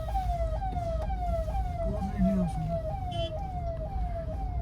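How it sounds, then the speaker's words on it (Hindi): An ambulance siren on a congested highway toll approach in India cycles in repeated rising-falling sweeps, steady and fairly close, with road noise underneath and no talk. "बट शायद ये एम्बुलेंस है, हमें एम्बुलेंस को रास्ता देना चाहिए।"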